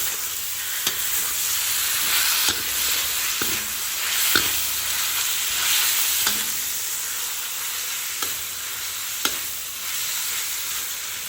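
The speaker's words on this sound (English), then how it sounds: "Stir well until all the kway teow has coated with the sauce." Kway teow noodles stir-fried with sauce in a hot pan, a steady loud sizzle with occasional clicks and scrapes from the utensil, close and continuous with no talking.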